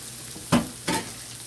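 Shrimp and pasta sizzle in a hot pan with a steady frying hiss, while two brief stirring scrapes stand out close by.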